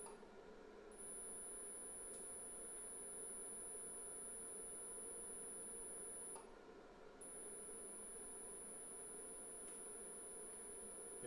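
A motor on a Kelly controller runs its angle-checking self-configuration as a faint, steady electric hum with a high whine over it. The whine drops out briefly twice.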